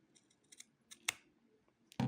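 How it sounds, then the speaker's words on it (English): Scissors trim excess material from a handmade compact wallet, giving several short, crisp snips close up in a quiet room, with one louder cut near the middle. "But that's easily trimmed with scissors"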